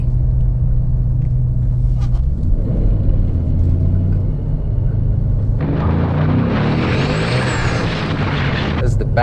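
A 700-horsepower Ford Mustang GT engine rumbles loudly and steadily from inside the car while driving, building to a harsher, louder roar of acceleration partway through.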